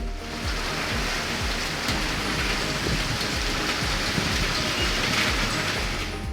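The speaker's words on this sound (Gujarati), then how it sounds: "રીમઝીમ રીમઝીમ મેહુલિયો વરસે" Steady, dense monsoon rain in Gujarat pours down continuously, a broad even hiss with drops pattering on surfaces throughout.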